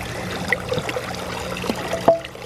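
Water trickles and splashes steadily from a garden fountain pump just restarted after clearing hard-water buildup, with a few louder drips and plops over the continuous flow.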